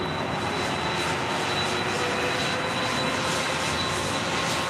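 A Delta Boeing 767-400ER jet airliner at LAX gives off a steady, loud engine roar and broadband rush that holds evenly throughout, with no voices.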